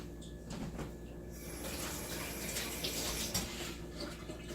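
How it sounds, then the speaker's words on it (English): Hands rinsed under a running kitchen tap, a steady close hiss of flowing water with splashy irregular surges and faint clicks, no voices over it. "Quick rinse of my hands."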